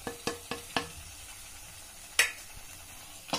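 A spoon stirs and scrapes spices, paneer masala, turmeric and tomato paste in a pan for shahi paneer, giving a few sharp, irregular scraping knocks over a faint sizzle, with no voices.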